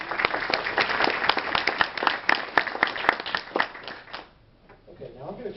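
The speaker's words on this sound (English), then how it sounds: "Why don't we give them another round of applause." Conference audience applauding the meeting organizers, a full round of clapping that carries for about four seconds before fading out, followed by a brief quiet stretch with faint sound.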